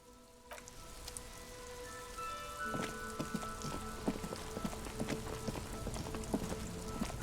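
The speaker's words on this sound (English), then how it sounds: "This rain will not let up anytime soon." Steady rain falls in the video game Disco Elysium, a constant soft hiss of drops on surfaces with scattered sharper taps and patters, growing slightly fuller after the first few seconds, with no voices over it.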